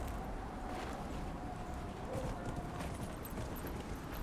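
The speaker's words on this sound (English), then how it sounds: "I guess I can ride the horse." Horse hooves gallop steadily in Dragon Age Inquisition, a rapid continuous clip-clop beat under a dense game soundscape, with no speech over it.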